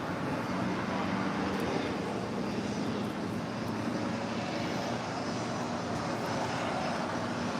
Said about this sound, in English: coming in from Tokyo, Narita on this Gulfstream G650ER